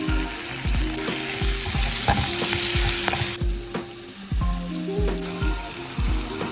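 Chopped spinach, minced garlic and red chili flakes sizzling in olive oil in a pan, a loud continuous frying hiss with repeated clinks and scrapes of stirring close by.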